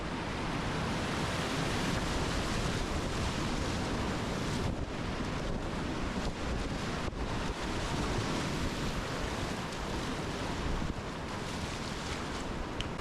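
Whitewater rapids on the Upper Youghiogheny River rush in a steady, loud, close roar of churning water that fills the whole stretch without a break, with no voices over it.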